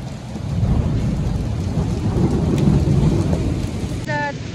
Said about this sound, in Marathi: विजा कडकडत आहेत